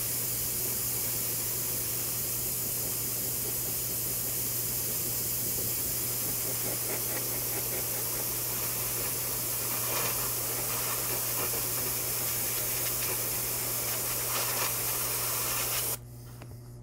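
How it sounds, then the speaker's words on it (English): Steady airbrush hiss blowing air over a painted piece to dry it, a continuous close, even rush of air with a low mains hum beneath, cutting off near the end. "This with my airbrush to help it dry faster."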